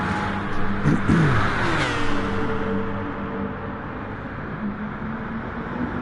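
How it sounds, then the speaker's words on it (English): A racing car engine revs hard as it closes in and overtakes traffic at Monza in an endurance race. The loud pitch sweeps up, then drops away as the car passes, leaving a fading background drone. "The sound of the master of Nilserman coming to overtake traffic here."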